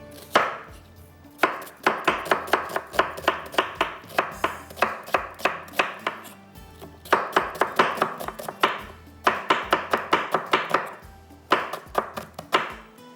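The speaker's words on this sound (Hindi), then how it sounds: "प्याज काट लेते हैं यहाँ पर।" A large onion is chopped with a knife on a board in quick, even runs of close, crisp strokes. Brief pauses break up the bursts of chopping.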